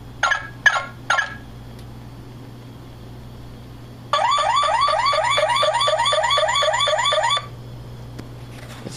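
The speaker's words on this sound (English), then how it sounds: "The alarm for this, which for some reason doesn't work anymore for this," A Road Ripper toy car's electronic alarm plays close and loud: three short chirps, a pause, then a rapid warbling siren pattern lasting about three seconds before stopping, with no talk over it.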